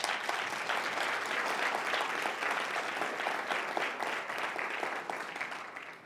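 Steady, sustained applause from a sizable crowd at a corporate financial results presentation, evenly loud throughout and easing slightly at the end.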